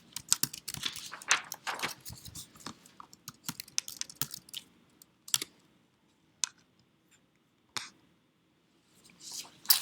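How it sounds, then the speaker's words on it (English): Fingers type on a computer keyboard, close and crisp, with a dense run of rapid key clicks at the start, then sparser single taps and short clusters with pauses between, and no talking. "you typed in your topic in the search bar"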